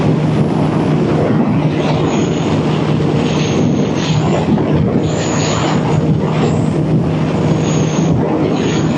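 Steady broadband rumble and wind roar from a 2014 Honda CB1000R motorcycle being ridden near Sebring, Florida, a continuous droning engine note without a break across the whole stretch.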